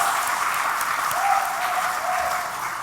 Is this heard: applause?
yes